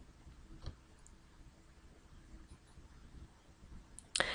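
Mouse clicks on a computer while a folder of course files is compressed into a zip file: a soft single click early on and a sharper, louder click near the end, with quiet room background between.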